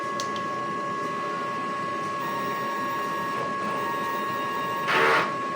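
A DTF printer runs a print head cleaning cycle, giving a steady low mechanical hum with faint whirring, a few light clicks and a brief louder burst of motor noise near the end.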